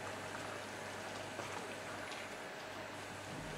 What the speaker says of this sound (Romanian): După o jumătate de oră, magiunul fierbe la foc potrivit.